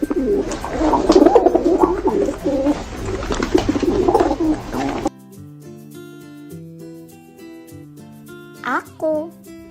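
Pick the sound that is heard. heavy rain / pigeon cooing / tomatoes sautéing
pigeon cooing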